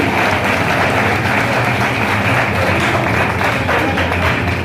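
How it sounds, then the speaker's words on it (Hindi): A live audience at a business seminar claps together, a dense, steady wash of applause sustained loud and close throughout with no talk over it. "तालियां हो जाए तो अपने लिए"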